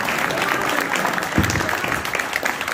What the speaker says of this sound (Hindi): भरपूर तालियां कामरान जुबैर कामी साहब के लिए बजाई